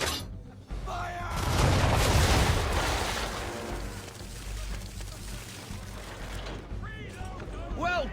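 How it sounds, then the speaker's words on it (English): A ship's cannon broadside fires in Assassin's Creed III, a loud rolling boom that swells and then fades into a long rumble, with brief high vocal cries at the start and end. "Bring around broadside, and when all guns are on target, call fire."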